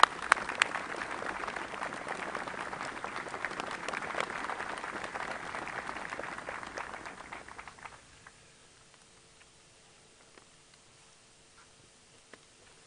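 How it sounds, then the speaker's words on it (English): An audience claps at a United States European Command change of command ceremony, steady moderate applause lasting about eight seconds before fading out to near silence with a few scattered claps. "join me in a round of applause for a terrific Deputy Secretary of Defense, Ash Carter"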